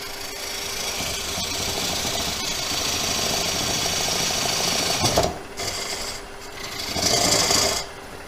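A bowl gouge cuts wood on a lathe, giving a continuous close rasping hiss that swells and dips slightly as the tool shifts, with a short break near the end.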